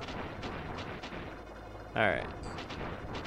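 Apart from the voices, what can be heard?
explosion from the video game Plok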